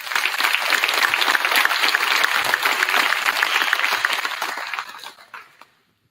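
An audience at a senior awards night breaks into loud, sustained applause that holds steady for several seconds, then fades and dies away into silence.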